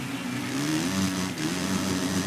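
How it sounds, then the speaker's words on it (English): A motocross bike engine revving hard out of a corner in the MXGP3 racing game, a steady, loud mid-pitched drone with a slight dip and pick-up partway through. "Just to get the revs out the corner there."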